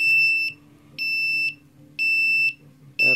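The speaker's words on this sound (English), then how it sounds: "Just get the beeping light" A Walkera F210 racing drone that won't bind after a crash and main board replacement beeps steadily, emitting loud, shrill half-second tones about once per second.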